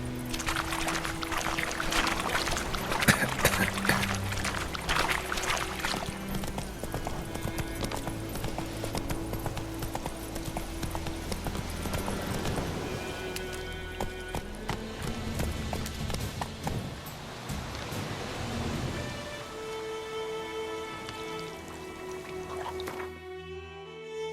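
Roach the horse trotting in The Witcher 3, a steady clip-clop of hooves running throughout over a continuous musical and ambient bed, with no voices.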